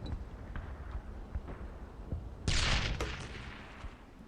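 In the Brothers in Arms: Earned in Blood video game, a grenade blows up with a loud sudden blast, with scattered gunfire popping before and after.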